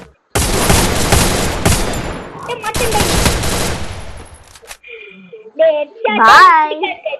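Rapid automatic gunfire in the mobile shooter game Free Fire, loud bursts filling the first four seconds, then sparse in-game sounds and a young voice talking near the end.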